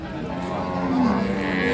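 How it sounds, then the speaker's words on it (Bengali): A cow lowing once at a busy cattle market where Friesian and crossbred cows are sold, a drawn-out mid-pitched moo over crowd murmur. "এই পাশে একটা গাভী দেখতেছি।"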